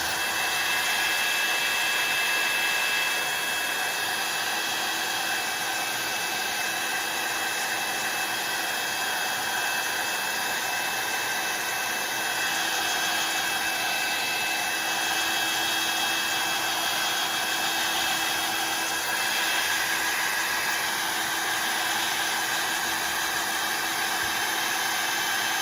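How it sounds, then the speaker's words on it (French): A heat gun drying small water droplets on an art collage page gives a loud, steady, continuous airy roar with a constant whine, running close and unbroken throughout with no talking. "je reprends le heat gun et je sèche mes petits points"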